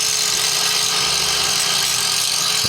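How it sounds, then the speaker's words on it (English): An angle grinder cleans up welds on a metal table with a loud, steady, close broadband grinding roar that runs unbroken throughout, with no talking. "once you're done welding, you go back over it with Mr. Grinder and clean it up"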